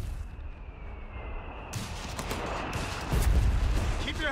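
An artillery barrage in Company of Heroes 3 during Operation Eindhoven, with a loud boom erupting after a quieter stretch and heavy rumbling blasts building toward the end, while voices talk over the battle.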